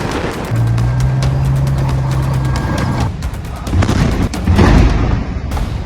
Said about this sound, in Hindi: इजराइल का तोप से हमला।